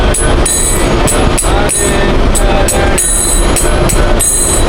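A Kolkata local train running at speed, loud continuous rumble with rhythmic clattering of wheels over rail joints and metallic squeal, heard close from inside the coach.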